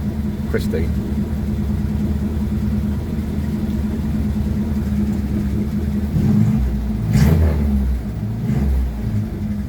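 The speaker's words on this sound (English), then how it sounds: "Come in here, turned it on, no choke, it started up." A 1954 Ford Popular 103E engine runs steadily close by, a constant low rumble with a couple of brief revs lifting it late on, heard alone without talk.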